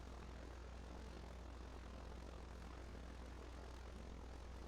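An MQ-9 Reaper drone landing in the Arma 3 video game gives a steady, dense propeller-engine drone, loud and unbroken, with no talking.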